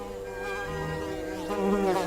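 Flies buzz close by in a steady, whining drone that swells slightly toward the end, with no voices.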